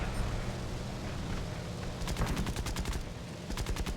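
Aircraft machine guns rattle in War Thunder, a dense rolling hum of engine noise underneath, then rapid bursts of gunfire crackling in tight rhythmic volleys from about halfway through, with a short pause before a final burst.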